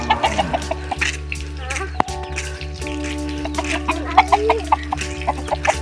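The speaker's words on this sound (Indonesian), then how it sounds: "Tuh ayam." Chickens cluck behind a village house, with repeated close clucks and calls in an irregular rhythm over a steady low hum and light dripping water.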